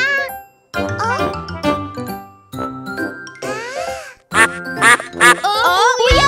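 Sung voices in an animated Chinese children's nursery song imitate ducks quacking, giving loud, bright, rhythmic quacks in short bursts with tinkling accompaniment.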